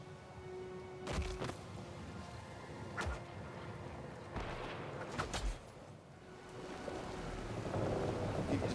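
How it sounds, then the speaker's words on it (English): A storm in the video game Pillars of Eternity 2 brings hissing rain and several sharp thunder cracks spaced a second or two apart, with no talking. "Storm picks up, blasting your ship and driving you dangerously close to the rocky shore."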